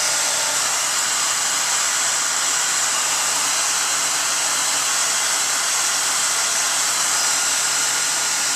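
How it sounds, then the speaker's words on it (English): A hair dryer or heat gun blows steadily while heating the base of a white Veranda vinyl fence bracket, a loud, even hiss and whoosh that runs unbroken and alone. "You can use a hair dryer or a heat gun."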